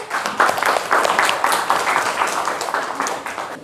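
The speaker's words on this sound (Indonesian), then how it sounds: "kasih aplaus untuk kelompok 1" Classroom applause for a student group after their presentation, a few seconds of steady, moderately loud clapping from many hands indoors.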